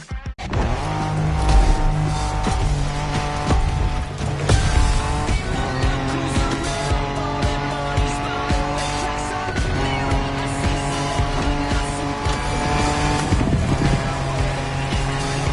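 Off-road racing in The Crew Motorfest on PS4: a loud, continuous engine roar with shifting revs and tire noise over dirt, layered under steady game music throughout.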